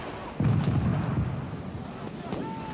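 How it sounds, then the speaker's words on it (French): A distant cannon booms once over a windy, noisy background in a historical battle setting, a low heavy rumble that lingers and fades without any talking. "le canon tonne au loin"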